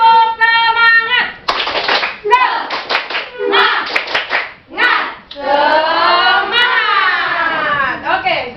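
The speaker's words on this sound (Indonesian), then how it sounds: "Tepuk semangat" A school class of children chants and claps together in a rhythmic spirit-clap routine, with bursts of hand claps in patterns between voiced shouts, loud and close in a classroom.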